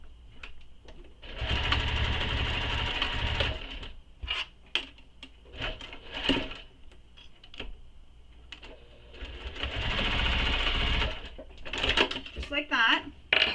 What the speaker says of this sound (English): Now we're going to baste the short raw edges.